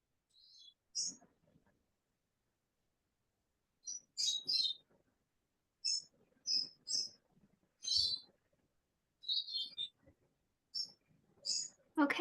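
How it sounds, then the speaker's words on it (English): Small birds chirp outdoors in short bright bursts of a few notes, spaced irregularly with quiet gaps between, faint and close to the microphone. "the bird chirping I think I was hearing is very soothing on a Friday morning"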